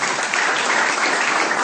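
Seminar audience applauding steadily and fairly loudly throughout, a dense continuous wash of clapping with no break or talk over it.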